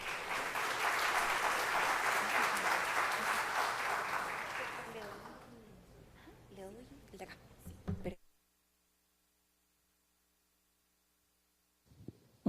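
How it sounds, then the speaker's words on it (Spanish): An audience at an electrical engineering event claps to welcome a speaker, loud sustained applause that fades out after about five seconds, followed by a few faint stage noises and then silence. "Fuerte el aplauso para recibirla."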